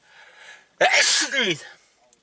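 A single loud sneeze bursts out abruptly after faint background noise, with a brief sharp inhale-like onset and a trailing voiced release.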